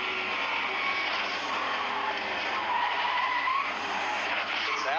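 A race car at the Daytona 500 slides and scrapes hard into the outside wall, a loud, continuous roar of engine and tire noise with grinding contact, no talk over it.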